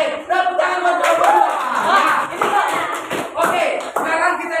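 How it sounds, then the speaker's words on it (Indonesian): Students in a classroom clap for a presenting group, with loose, uneven hand claps close by mixed with chatter and voices throughout. "tepuk tangan buat kelompok"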